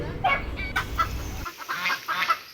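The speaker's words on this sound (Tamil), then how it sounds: "முட்டையை போட்டுட்டு நல்லா கொக்கரிக்குது கோழி" A free-range hen on an estate clucks and cackles after laying an egg in a series of sharp, repeated calls, close by, over farmyard background noise that drops away partway through.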